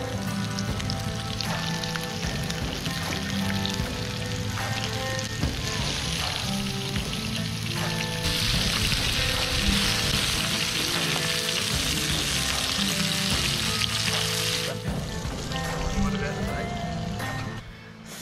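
Herb, spice and coconut flour rolls fry in leftover oil over beach coals, giving a steady close crackling sizzle that runs the whole time with a brighter, denser hiss partway through.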